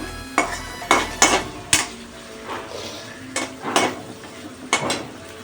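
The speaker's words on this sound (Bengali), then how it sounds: "একটু গ্যাসের ফ্লেমটাকে জোরে করে দিয়ে ভাজবেন, একদম হাইতে রাখবে, রেখে বেরেস্তাটা বানিয়ে নেবেন প্রথমে।" Onions for biryani beresta fry in a pan over a high gas flame, with a spatula clanking sharply against the metal in irregular strokes above a soft, low background.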